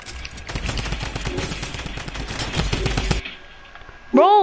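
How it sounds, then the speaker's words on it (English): A minigun in Fortnite fires a long, dense, continuous stream of rapid shots for about three seconds, then cuts off sharply, followed by a brief high-pitched game sound. "why do you keep on spamming with your minigun?"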